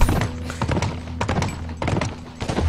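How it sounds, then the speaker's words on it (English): Horse hooves clip-clop in the video game The Last of Us, loud and close, with uneven rhythmic thuds over a rumbling low background and no voices. "Riding horses actually makes sense in this game."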